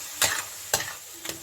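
Roasted eggplant with garlic frying and being stirred in a pan: three sharp spatula scrapes against a low, steady sizzle.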